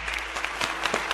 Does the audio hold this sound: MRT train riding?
no